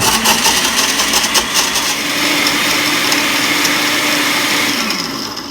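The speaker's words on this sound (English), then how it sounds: "Since it's a blender, I'll just put in a few at a time and then grind it up that way." A blender grinds cherries for vegan chocolate cherry ice cream, a loud high-pitched motor whine running steadily up close before winding down at the end.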